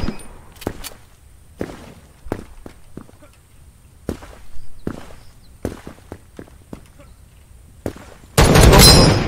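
Single sharp shots from a semi-automatic weapon in the browser shooter game Krunker, spaced irregularly over several seconds, followed by a loud dense burst of noise at the end.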